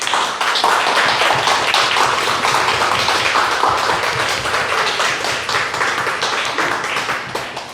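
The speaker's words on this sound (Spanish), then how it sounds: "y vamos a darle un aplauso, hermanos." Sustained applause from a church congregation, many hands clapping loudly and densely together for several seconds without a break.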